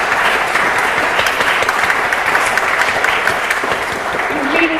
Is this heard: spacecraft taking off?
no